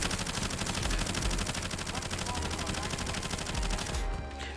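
Bullfrog SMG in Warzone emptying a 50-round magazine in one continuous rapid burst of loud gunfire, stopping abruptly near the end.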